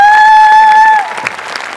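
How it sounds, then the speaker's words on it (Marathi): Studio audience applause during a televised Marathi comedy show quiz: a loud sustained electronic tone fills the first second, then a modest round of clapping follows. "जोरदार टाळ्या झाल्या पाहिजेत"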